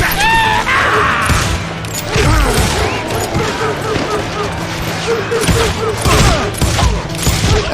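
Heavy covering gunfire in Call of Juarez: Gunslinger, a dense, loud, continuous barrage of shots and impacts with shouting voices mixed in.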